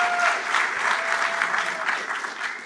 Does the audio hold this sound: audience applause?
yes